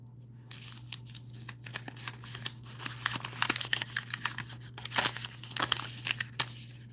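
Paper name slips rustle and crinkle as they are shaken in a hat and unfolded, a close, steady run of soft crumpling and sharp tearing-like crackles that grows busier toward the end, with no talk.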